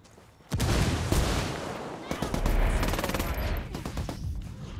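In Ghost Recon Wildlands, a sudden loud blast is followed by a dense, sustained stretch of rapid automatic gunfire, close and heavy, with faint voices in the mix.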